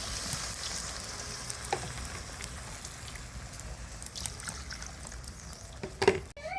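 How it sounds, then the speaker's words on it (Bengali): Chicken curry keeps sizzling in a pan as a little water is poured in, giving a steady frying hiss with a few soft clinks and a brief louder splash and stir near the end. "একটু পানি দিয়ে দিলাম।"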